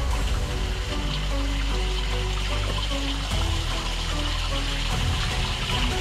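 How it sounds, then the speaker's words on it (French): Water flowing and gushing inside a hole in a cave, a loud continuous rushing wash close by with a low rumble underneath, no talk. "on retrouve l'eau qui coule effectivement à l'intérieur du trou"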